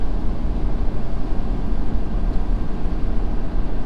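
A 2020 Ford Super Duty pickup with a 10-speed transmission towing 18,000 lbs, its engine droning steadily at high revs in a low-pitched rumble mixed with road and wind noise, with no talking.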